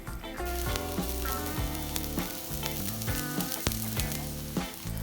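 Salt-and-peppered Wagyu steak sears loudly in a hot pan, a dense crackling sizzle with bursts of spitting fat, close up and without talk.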